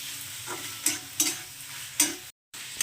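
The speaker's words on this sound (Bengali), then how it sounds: "এবারে একদম ভালো করে আরও মিশিয়ে নিচ্ছি" Spinach frying in a pan is stirred with a utensil, giving a steady hiss broken by several sharp scraping strokes at irregular intervals, close and clear, with a brief gap of silence near the end.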